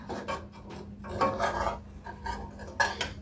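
A spoon scraping and lifting bread pizzas out of a pan, making short rasping, metallic scrapes and light clatters in irregular bursts, close and fairly loud.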